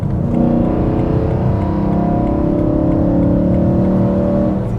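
A BMW E92 M3 with a freshly rebuilt engine holds a steady 4,000 RPM, giving a loud, continuous layered drone with strong low harmonics and no talking over it.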